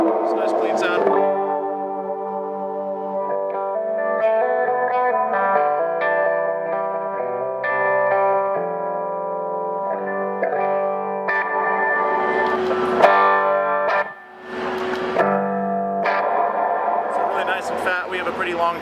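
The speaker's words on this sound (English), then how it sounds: "we have the Hall of Fame Reverb pedal. It's a nice clean sound." Clean electric guitar chords and single notes played through a TC Electronic Hall of Fame Reverb pedal set with a long trail. The notes ring on with a smooth, washy decay, steady and prominent throughout.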